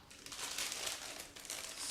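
Gray plastic sprues of a Zvezda 1/48 Yak-130 model kit rustle inside a sealed plastic bag as it is opened, giving a continuous close crinkling and crackling for about two seconds, with no one talking.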